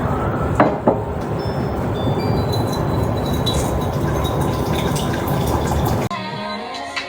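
A continuous stream of hot water pours loudly into a container, running steadily for several seconds before cutting off.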